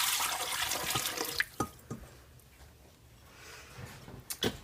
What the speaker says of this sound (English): So this is just water from the tap.